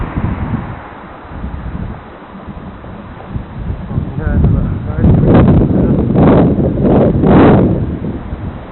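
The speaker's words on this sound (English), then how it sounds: "lovely day today, but really cold wind" Cold wind buffets a 1979-81 Hanimix VC600P video camera's microphone outdoors in Devonport, Tasmania, giving a loud, uneven rumbling roar that gusts harder in the second half, with a voice speaking over it.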